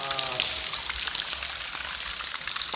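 Water rushes loudly and continuously at a waterfall, a dense steady broadband roar filling the whole moment with no pauses and no clear talking over it.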